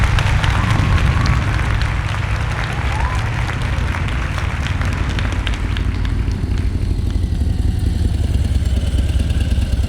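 Motorcycle rolling at slow speed with the rear brake dragging during an advanced slow-riding practice session in Texas, a steady low engine drone with scattered clatter and rumble throughout.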